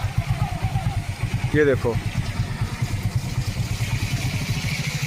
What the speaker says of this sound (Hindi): ये देखो बिल्कुल मैं बाइक से हूँ, और ये लगा लो कि अगर बाइक रुक गई तो पैर बिल्कुल गंदे हो जाएंगे।